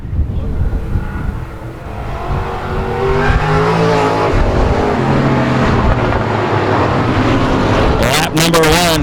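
Race cars roar around a Texas speedway as the field heads into turn one, engines droning loud and close under a commentator's voice, with a rising whine of a passing car near the end.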